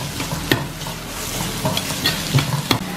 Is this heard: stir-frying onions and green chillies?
yes